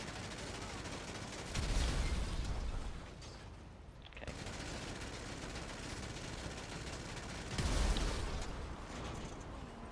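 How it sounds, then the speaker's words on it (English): Vehicle-mounted machine guns on a Toreador and a Deluxo fire in a video game, giving two loud, sustained bursts of rapid gunfire separated by a quieter stretch, with one short spoken word. "Here is a side-by-side comparison of the Toreador machine guns and the Deluxo."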